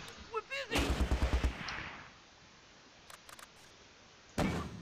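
An MG42 machine gun in the Close Combat: Last Stand Arnhem war game fires a short rapid burst of about seven cracks, followed by quieter scattered distant shots and a final loud report.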